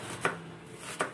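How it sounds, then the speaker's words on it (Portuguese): Two crisp knife strokes cutting an onion into fine pieces on a board, spaced under a second apart, close and distinct against a soft background hiss. "Cebola realmente é difícil de cortar, tem que aprender"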